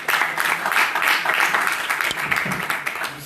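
Audience applause at a speech competition, a dense, continuous burst of many hands clapping that stays loud and even for a few seconds.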